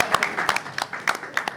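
An audience at a Burundian music event claps for an artist in a short burst of scattered, uneven hand claps. A voice talks over them.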